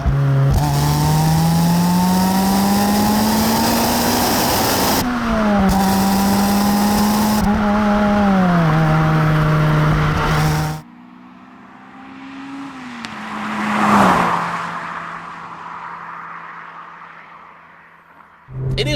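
A Toyota Corolla T Sport engine revving hard while driving fast, a loud, strained buzzing drone that climbs and drops through gear changes, then cuts out to quieter road noise before picking up again.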